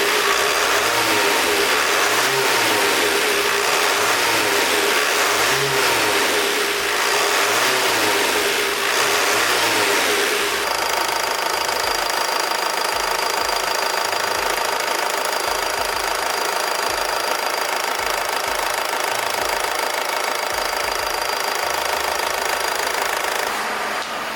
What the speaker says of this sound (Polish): Silnik się całkowicie normalnie wkręca na obroty.